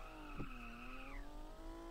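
A car in Car For Sale Simulator 2023 drifts with a long, loud tire squeal and a sustained engine tone that shifts pitch as it slides through a turn. No one speaks over it.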